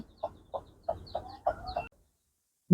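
Three-day-old chicks and hens cluck on a poultry farm, with six short, evenly spaced calls followed by a brief pause and then a sudden loud burst at the end.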